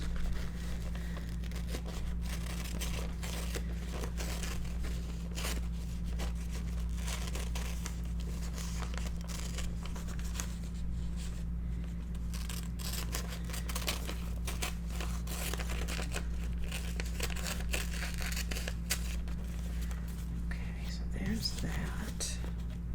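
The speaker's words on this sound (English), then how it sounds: "I can cut it out of the frame." A paper tree picture being cut out of its frame during a winter mini album craft session, giving soft crinkling, snipping and rustling close by under quiet whispered talk over a low hum.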